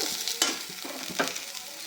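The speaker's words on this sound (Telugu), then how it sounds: "మనం వాటర్ వేయలేదు ఓన్లీ ఆయిల్లో ఫ్రై చేసుకుంటున్నాం" Sorrel leaves and ripe red chillies fry in oil with no water, a soft sizzle punctuated by two or three sharp stirring scrapes of a spatula, quiet and close.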